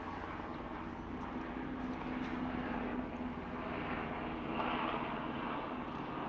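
A fixed-wing airplane passes overhead near an airport in Costa Mesa, a steady distant engine drone that holds at even loudness throughout, with no talk.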